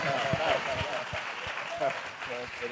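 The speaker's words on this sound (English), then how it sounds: "clap for that." Applause from the audience at a televised panel conversation about the Wu-Tang series, fairly faint clapping running throughout with some voices and crowd noise mixed beneath it.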